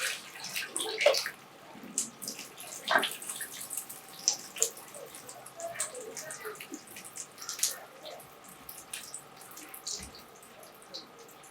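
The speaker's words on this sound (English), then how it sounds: "once you pour them, you can just wait for them to calm down" Water and small farmed fish are poured into a sorting container, giving quiet, scattered splashes and trickles with brief gurgles and drips, fairly close but soft.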